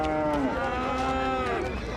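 Cow at a livestock market mooing in one long drawn-out low call, fairly close and loud over faint background crowd noise.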